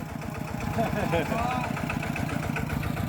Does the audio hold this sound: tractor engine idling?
yes